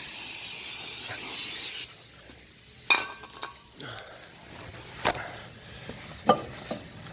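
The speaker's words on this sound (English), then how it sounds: "Then the last thing you do is you grab some of that brake cleaner." Brake cleaner sprays from an aerosol can onto the front brake parts, rotors, lug nuts and studs of a 1998–2002 Honda Accord: a loud steady hiss for about two seconds, then quiet clinks and light metallic taps.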